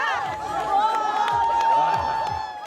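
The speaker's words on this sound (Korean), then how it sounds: "드디어 승패가 결정되고 모래판을 뒤흔든 강력한 한 방에 환호성이 터져 나옵니다" A crowd cheers and shouts loudly and steadily after a ssireum wrestling bout is decided on a sand ring, with voices mixed into the roar.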